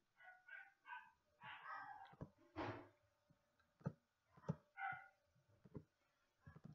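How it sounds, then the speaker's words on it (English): Several dogs bark and yip in irregular bursts, some close and sharp, others more muffled, with short pauses between volleys. "A lot of dogs barking right now."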